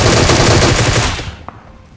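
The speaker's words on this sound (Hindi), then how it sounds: "मुझे सामने वाली पहाड़ी से गोली चलने की आवाज आती है" A loud, sustained burst of automatic gunfire in the video game PUBG Mobile, a dense rattle of shots lasting over a second before cutting off, followed by one last sharp crack.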